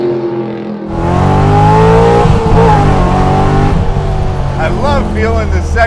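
A widebody C3 Corvette with an LS6 V8 roars loudly up through first gear, then its engine note drops at the shift into second and climbs again, with people talking over the engine.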